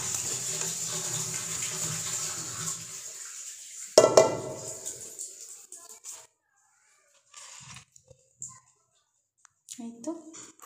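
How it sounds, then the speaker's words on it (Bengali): Boiled gorgora mutha pitha drained through a sieve: a steady stream of water pours and splashes for about four seconds, then tapers off into a few scattered drips and small clinks near the end. "ছাঁকনিতে এটা এখন আমি ছেঁকে নেব।"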